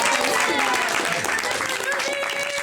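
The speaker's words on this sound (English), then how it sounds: "Let's give each other a round of applause" An audience applauds itself at the close of a film discussion event, a dense wash of clapping filling the short stretch with steady loudness, mixed with some voices.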